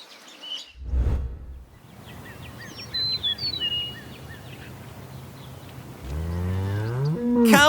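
A cow on a farm lets out a loud, deep moo at close range, then a long rising low call near the end, while birds chirp faintly in the background between the calls.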